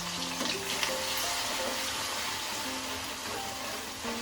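Onion paste drops into hot oil in a kadai wok for a mango and pointed gourd dorma, setting off a steady, close sizzle and crackle that holds evenly throughout.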